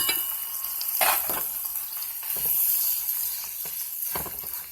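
Whole leaf spinach sizzles and fries steadily in a pan with onions, with occasional stirring scrapes and soft clatter of a utensil against the pan, close and moderately loud with no talking.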